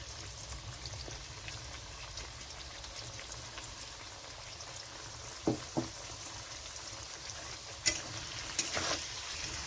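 Ground spice paste added to a hot frying pan with fried potatoes, giving a faint, steady sizzle with a few sharp clinks and stirring knocks scattered through.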